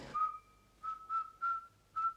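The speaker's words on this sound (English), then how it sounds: "Now, whistle the first bars of Rule Britannia." A person whistles the first bars of Rule Britannia, a few clear sustained notes separated by brief pauses, close and alone.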